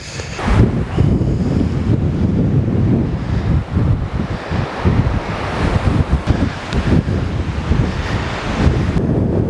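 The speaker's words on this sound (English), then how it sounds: "Woo, it's pretty windy out here." Strong wind at an ocean cliff lookout buffets the microphone in gusty rumbles, with ocean surf washing faintly beneath; no one speaks.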